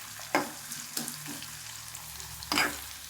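Pirandai, the adamant creeper, sautés softly in a pan, a low sizzle broken by a few sharp spatula scrapes and stirs, close and fairly quiet.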